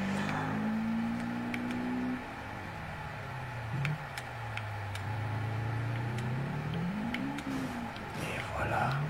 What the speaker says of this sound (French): Des voitures qui valent une blinde qui se foutent sur la gueule dans des champs.